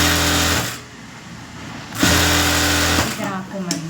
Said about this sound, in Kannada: ಒಂದು ಡೆಮ್ಮಿ ಸ್ಟಿಚ್ ಒಂದು ಸ್ಟಿಚಿಂಗ್ ಹಾಕ್ಕೊಳ್ಳಿ. ಸ್ಟಿಚಿಂಗು ಹಿಂಗೆ ಸ್ಟ್ರೈಟಾಗಿ ಹಾಕ್ಕೊಳ್ರಿ